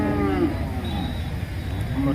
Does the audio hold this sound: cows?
yes